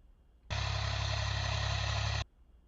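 A heavy tractor engine, digging, runs at a steady idle-like rumble for nearly two seconds, loud and close, starting and stopping abruptly.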